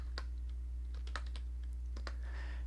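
Clicky keystrokes on a computer keyboard, a handful of quick separate taps in an irregular rhythm over a low steady hum, close and fairly quiet with no voices.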